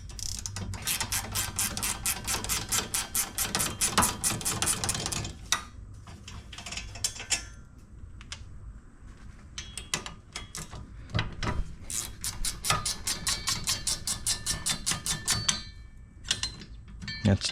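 A ratchet clicks rapidly in long runs while loosening the 12 mm caliper bolts on a 2007-2012 Yamaha Rhino 700 during rear wheel bearing work, close and clear, with a short pause and handling noises between the runs.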